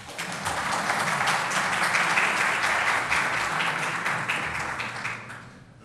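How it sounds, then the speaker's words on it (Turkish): Audience in a hall at an event with Turkey's education minister bursts into sustained applause, dense clapping that swells and holds steady before tapering off near the end. "Burayı alkışlamanız gerekiyor"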